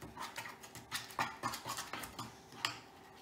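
Gel food coloring being stirred into a bowl, probably a white frosting, with a utensil scraping and tapping the bowl in a steady rhythm of soft clinks, close and fairly quiet.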